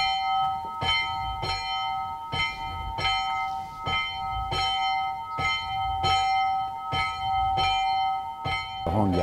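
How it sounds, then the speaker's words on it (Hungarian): A newly consecrated church bell in a village tower rings in steady, evenly spaced strokes, each bright clang leaving a long shimmering overtone ring, heard alone and fairly near. "Ugye érdekes a harangnak a hangja, hogy minden egyes gyűrűn más-más hangot ad ki"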